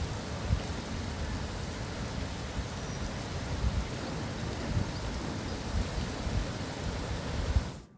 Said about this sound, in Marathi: धरण परिसरात पावसाचा जोर कायम आहे